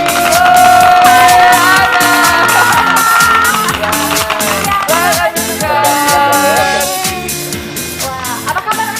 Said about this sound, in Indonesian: Kita sambut dengan tepuk tangan yang meriah dari rumah kita